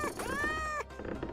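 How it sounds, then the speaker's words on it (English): A cartoonish cat in a hidden-object video game gives a single clear, drawn-out meow with rising and falling pitch, close and alone for about a second, followed by a brief softer tail. "That was a cat, not a bird."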